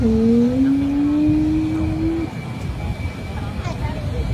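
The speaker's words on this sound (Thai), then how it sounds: "นี่ครับ เครื่องบินโดยสารใหญ่มาก" Large passenger aircraft at a military air show, a loud steady engine whine and roar with a high tone sliding upward before fading into crowd noise, with a person talking over it.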